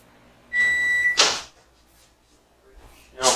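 A microwave oven heating peanut brittle gives a short steady beep-like tone for about half a second. A clunk follows as the door opens, then quieter kitchen handling and another knock.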